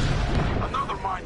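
A space mine blowing up in a Star Wars space-combat game, a low rumbling boom that fills the short moment with a dull roar, loud and close.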